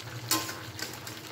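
Half-cooked mixed vegetables with turmeric being stirred in a pan: a soft sizzle with one sharp scrape of the spoon early on and lighter stirring sounds after, brief and close, no voices.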